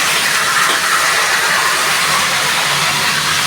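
Prawns, a large onion, whole garlic cloves and green chillies frying together in hot oil, a loud, steady broadband hiss and sizzle close up, continuous throughout with no voices.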